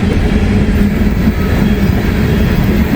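A freight train rolls past in fog in Kentucky, a loud, close, continuous rumble of wheels and cars with faint rhythmic clatter and no talking.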